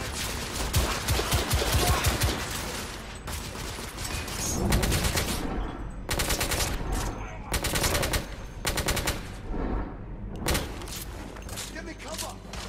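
Gunfire from The Order 1886 video game fills the whole stretch, dense machine-gun bursts and booming shots in rapid, overlapping volleys with brief lulls between, loud and continuous.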